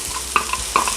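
Onions and chili sizzle softly in a pan as a utensil scrapes and stirs in a few quick strokes, close by and fairly quiet.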